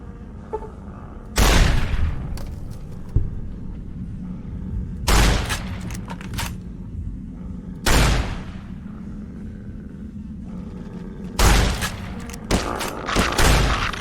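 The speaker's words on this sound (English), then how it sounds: "I heard gunshots outside." Several sharp gunshot bursts from the video game Fallout: New Vegas crack out at irregular intervals, loud and close, over a low steady background hum.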